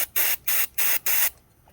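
Aerosol cleaner sprays into a Silverado engine part in four short, sharp hissing bursts evenly spaced about a third of a second apart. The bursts are close and loud, and the clip ends in near silence.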